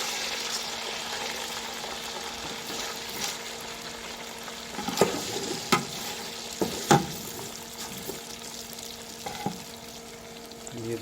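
Vermicelli (savaiya) roasts in a pan with a steady frying sizzle, punctuated by a few sharp scraping knocks of a spoon stirring against the metal.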